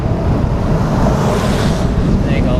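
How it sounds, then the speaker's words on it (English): Strong wind buffets the microphone of a cyclist riding through sleet and rain, a loud continuous low roar and rush that fills the whole stretch. "Pretty windy out here."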